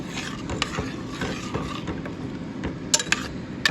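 Kidney bean curry being stirred in a cooking pot, a spoon scraping and clinking against the metal in scattered knocks over a steady low simmer, with a few sharper taps near the end.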